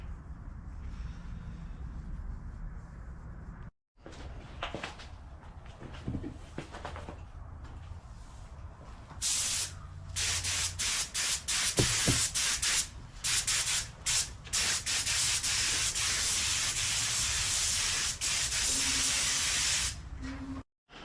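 Spray painting parts for a 1955 Chevy: steady, loud aerosol hissing in long continuous bursts, broken by short pauses and handling rubs, with no talking.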